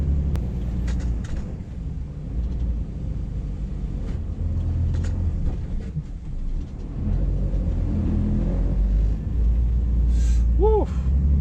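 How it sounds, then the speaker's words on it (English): An HGV truck labouring up a slippery hill, its engine droning loud and close with a rough, uneven low rumble as the tires slip; a brief rising whine near the end. "Can feel my tires slipping."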